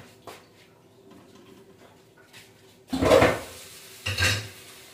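Dishes, pots and pans clatter in a home kitchen sink piled with utensils: two distinct bursts of metallic clanking and scraping after a quiet stretch with faint rustles and a soft tap.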